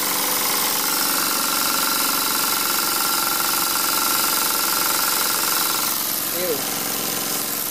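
A steam engine runs steadily on its new boiler near full throttle, a continuous mechanical chugging and hiss with dense rhythmic texture throughout, and a brief voice exclaims near the end.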